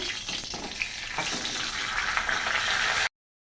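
Large katla fish head frying in hot oil: a dense, steady crackling sizzle, close and fairly soft, that cuts off abruptly near the end.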